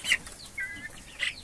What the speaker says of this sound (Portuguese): como que tá bonita essas franguinhas aqui